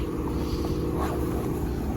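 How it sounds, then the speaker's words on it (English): A 1955 MG TF 1500 roadster's engine idles steadily on choke, a low, even rumble with a faint rhythmic pulse running unbroken throughout. "The car starts easily on choke"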